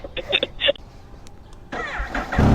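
A big bike motorcycle engine starts up and settles into a mid-pitched rumble near the end, following a stretch of quiet background noise.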